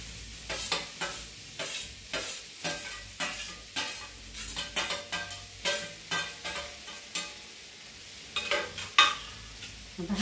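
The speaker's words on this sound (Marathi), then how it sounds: "आता हा थोडासा परतून घ्यायचा आहे।" Grated raw mango being stirred and sautéed in a hot kadhai, with a spatula scraping in steady, repeated strokes over a soft, close sizzle, and no voices.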